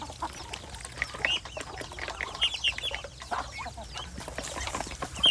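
Chickens and ducks out together at a Thai village home, clucking and quacking in scattered bursts nearby, with faint chirps over a low background hum.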